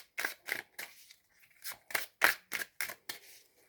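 Tarot cards riffle-shuffled in a quick series of crisp, close flutters, about nine bursts with short pauses between, alone without talk.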